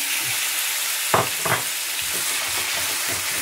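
Chicken pieces sizzle steadily in a hot pan, a dense close frying hiss with a few clinks and stirring scrapes partway through, no voices.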